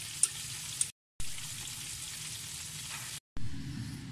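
Gravy for homemade KFC-style fried chicken simmers and is stirred in a pan, giving a steady close sizzling, bubbling hiss with a couple of faint clicks early on, broken twice by brief abrupt silences, with no talking.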